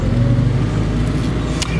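A 1991 Alfa Romeo Spider with 39K miles pulls away, its engine giving a loud, steady low rumble heard close up, with no voices over it.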